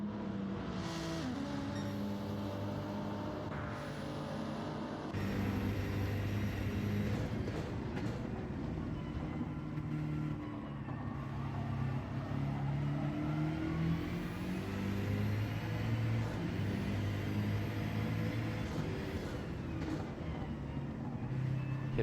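Racing car engines drone in a sim racing game at Daytona, a steady loud mechanical roar with pitch rising and falling through gear changes and corners, running continuously.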